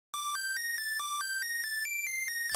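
Dry synth lead melody with no effects, a thin, bright tone playing a short run of about ten clipped notes that hop between a few pitches; quiet and alone, ringing almost like a phone tone.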